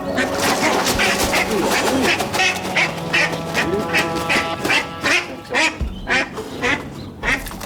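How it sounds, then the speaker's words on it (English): A mother duck and her ducklings, being rounded up in an animal rescue, quack in rapid, repeated bursts that come close and loud throughout, with softer peeping between calls. "But the ducklings are showing no signs of coming quietly."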